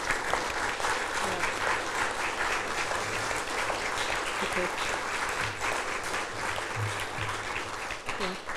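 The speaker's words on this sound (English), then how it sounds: "I think a round of applause is in order." A crowd applauds at a medal presentation for the Jadotville veterans, dense sustained clapping lasting several seconds with a few low voices murmuring underneath.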